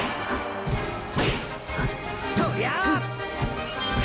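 Hits and smash attacks landing in Super Smash Bros. Melee, a Fox/Falco versus Sheik tournament match, sharp crashing whacks and swishes repeating over a few seconds while a commentator talks excitedly over the game sounds.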